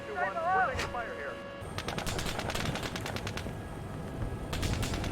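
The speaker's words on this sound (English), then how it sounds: "We're taking fire here." Gunfire in the Steel Beasts Pro tank simulator game, a Reforger '87 battle scenario: rapid machine-gun bursts and repeated shots crackle steadily over several seconds, with a brief tonal radio or engine whine at the start.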